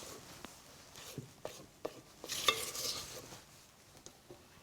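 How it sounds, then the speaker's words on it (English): Sugar being stirred into cinnamon meringue for a pavlova, with soft scraping and tapping against the bowl in an irregular rhythm and a few sharper clinks, close and fairly quiet. "now for the final 1/3, I'm just going to mix in to make sure that everything on the edge"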